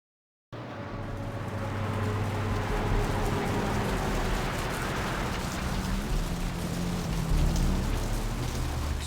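Steady rain pouring in Santa Monica in the video game Vampire: The Masquerade – Bloodlines, a dense continuous hiss of falling water with a low rumbling bed underneath, loud and even throughout.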